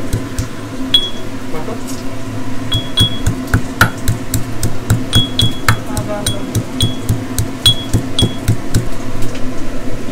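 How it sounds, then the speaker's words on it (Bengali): Ginger and green chili are pounded in a metal mortar and pestle, a steady run of sharp, ringing thuds and clinks at close range, with faint voices in the background. "আদা আর লঙ্কা বাটা হচ্ছে হামল দিস্তায়"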